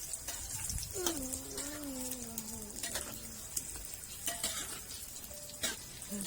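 Dumplings fry in hot oil with a steady, close crackling sizzle that runs throughout, while a faint wavering tonal sound drifts in and out over it.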